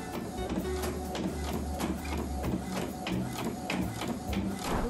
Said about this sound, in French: je vais aller imprimer tout ça